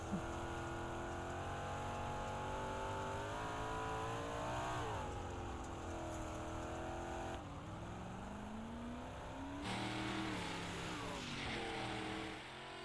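Onboard view of a race car lapping I-55 Speedway, the engine droning loud and steady with rising and falling pitch through the corners and a brief lift before accelerating again, with no voices.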